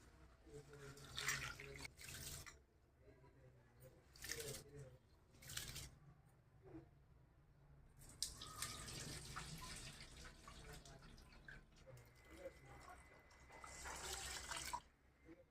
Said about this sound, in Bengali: আমি এখন আতপ চালটা ভিজাই জল দিয়ে ধুয়ে রাখবো, 3-4 বার ধোবো